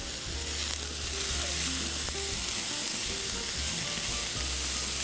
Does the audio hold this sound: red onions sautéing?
yes